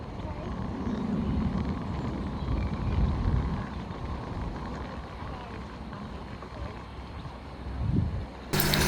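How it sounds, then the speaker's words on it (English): Steady wind buffeting an outdoor microphone at a horse training lesson, a continuous low rumbling roar that swells and eases throughout, with no talking. "Finally, the wind calms down a little bit"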